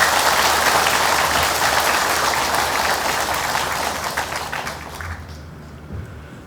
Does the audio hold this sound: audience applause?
yes